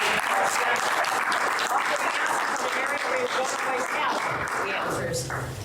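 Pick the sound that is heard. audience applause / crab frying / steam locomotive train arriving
audience applause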